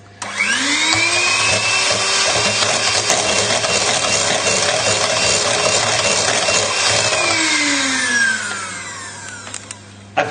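An electric hand whisk whirs loudly and steadily through a lemon curd soufflé base for about eight seconds, then winds down and stops, with no talking.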